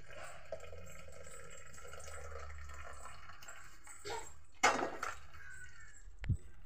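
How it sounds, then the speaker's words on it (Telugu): Water is poured into a container in a home kitchen: a short, soft splashing burst near the middle over a quiet, faintly humming background, then a brief knock. "కొద్దిగా వాటర్ తీసుకుని వాటర్ ఇలా పోసేసుకున్నాం అనుకోండి"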